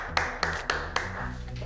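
A few people in an office clap for a coworker, four distinct, fairly sharp claps spaced evenly, close by and quiet overall, with a low hum of the room underneath.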